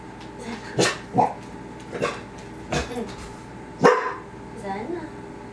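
A dog barks in several sharp, separate bursts indoors during a home core and yoga session, close and fairly loud, with a steady hum underneath and no talking over the barks.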